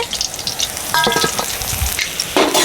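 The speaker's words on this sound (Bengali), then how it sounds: "মাছ ভাজা হয়ে গেছে তুলে নিচ্ছি" Fish sizzles and fries in a pan, a loud crackling hiss with a brief stirring clatter midway.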